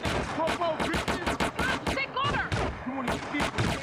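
Gunfire in GTA San Andreas, a rapid string of sharp close shots in quick bursts with brief gaps between them, loud and steady across the whole stretch.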